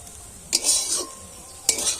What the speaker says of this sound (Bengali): মশলাটা ভালোভাবে মিশিয়ে নিয়েছি চাউমিনের সাথে।